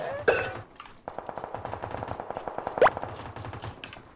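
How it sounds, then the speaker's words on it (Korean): Gunfire in the battle royale game PUBG: Battlegrounds: a sharp opening shot, then a rapid, evenly spaced automatic burst of many rounds continuing to the end, fairly loud and near. "초록핑의 총소리"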